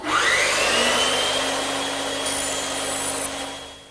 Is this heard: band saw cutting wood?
yes